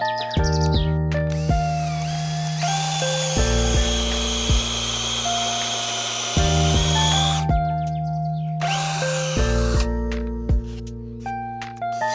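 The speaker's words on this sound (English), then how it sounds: "I'm gonna drill all the way through" A power drill whines continuously in long bursts drilling through wood from a fallen tree, stopping and restarting several times, loud and close, with steady background music underneath.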